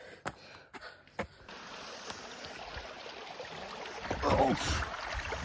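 A spring-fed stream at Lonar lake gives a steady, close rush of water that swells louder near the end, after a few sharp knocks and brief voices at the start.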